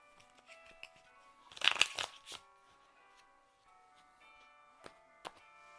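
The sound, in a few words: shuffling a deck of tarot cards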